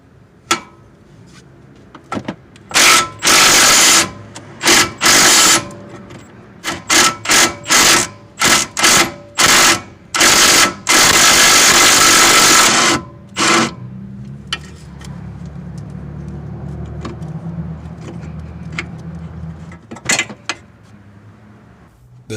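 A ratchet and wrench work an 18mm control arm bolt on a 2013 Chevy Impala, giving loud repeated ratcheting bursts with short pauses, then a quieter stretch of faint metallic handling.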